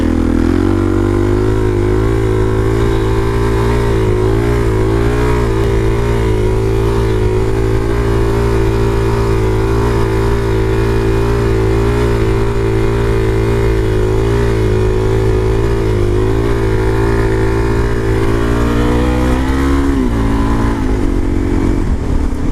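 A DRZ supermoto motorcycle's engine running throughout a ride, loud and close, a steady buzzing drone with slight pitch swells as the throttle shifts and a quick rev change near the end.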